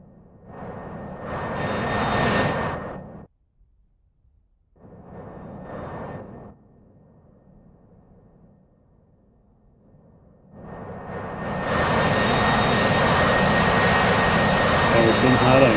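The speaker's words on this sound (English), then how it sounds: "he's in a Harrier. And he's practically hovering down." A Harrier jet in the DCS World flight game roars loudly as it hovers down to land, its engine swelling, cutting out briefly, then building into a sustained, broad jet rumble that grows louder toward the end.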